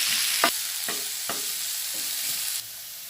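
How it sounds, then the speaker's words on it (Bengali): Onions frying in a pan until turning reddish, a constant bright sizzle broken by several sharp scraping stirs of a spatula, close and loud with no talk. "পেঁয়াজটাকে আমি লাল করে ভেজে নেব।"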